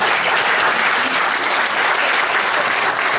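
A festival audience at Microfon 2018 in Petrovo Selo applauds the producer and director Zdravko Valentin with dense, loud, even clapping that holds steady from start to finish.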